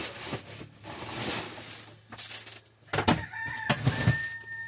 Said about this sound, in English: Hear everybody over there crowing.